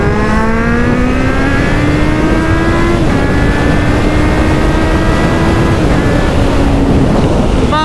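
A motorcycle engine drones loudly and steadily while riding, its pitch climbing and holding through gear changes, heavy wind rush roaring over it throughout.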